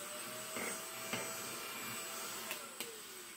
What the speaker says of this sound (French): Vas-y, tu veux faire ton aspirateur.